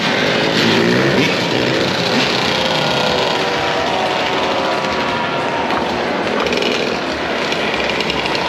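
Loud, continuous engine roar of motorcycles riding close by on a New York City street, a steady rumbling buzz filling the whole stretch with no pauses.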